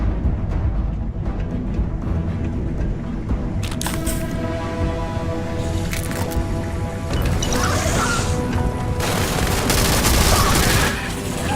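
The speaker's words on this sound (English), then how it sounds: "No, it's a giga gun." A giga gun firing in Starfield, rapid mechanical bursts and booming shots repeating through the second half over a busy, clattering game soundscape, fairly close and loud.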